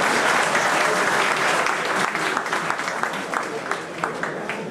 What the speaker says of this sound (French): On peut applaudir cette coïncidence.